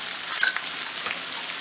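Small pieces of boiled potato fry in a pan with onions, giving a brief, close, even sizzle with faint crackles and no speech.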